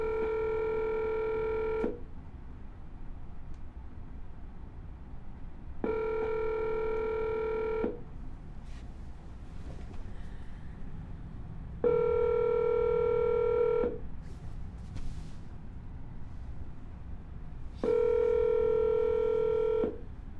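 A telephone ringback tone sounds four times during an outgoing call, each long steady tone followed by several seconds of quiet hiss.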